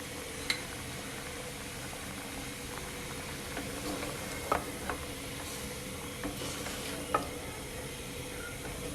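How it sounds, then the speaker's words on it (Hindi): Chicken karahi fries in a pan, giving a steady low sizzle with occasional light scrapes and clinks from stirring, and no voices. "इसको थोड़ा सा भूनेंगे।"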